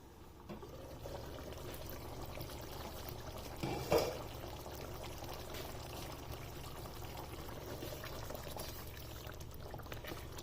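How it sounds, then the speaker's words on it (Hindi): Water pours into a pot of cooking kaleji masala with a soft, continuous trickling wash and a brief louder splash partway through, no talking. "थोड़ा सा पानी डाल दें, थोड़ा सा पानी डाल मिक्स कर लेना है।"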